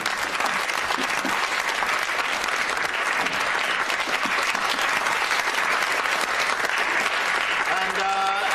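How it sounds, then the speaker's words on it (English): A school hall crowd applauds continuously, dense and fairly loud throughout, with a short musical tone creeping in at the very end. "Round of applause for Dale."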